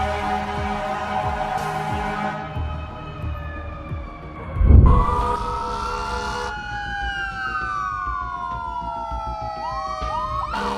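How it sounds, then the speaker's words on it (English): A fire truck's siren wails in traffic, loud and near, its rising and falling tones sweeping up and holding over the road noise, with a sharp blast partway through and no talking. "Apparently, sirens now mean don't move. Like the fire truck's just part of the traffic show."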